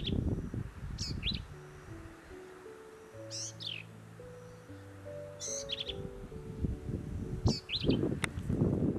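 Small songbird singing in an oak woodland of the Wichita Mountains, Oklahoma, repeated short high phrases every couple of seconds over a soft mellow low melody and light outdoor background.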